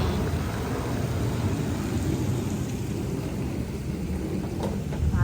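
Steady, dense rain hisses continuously with a low rumble of thunder underneath, loud and unbroken, with no voices.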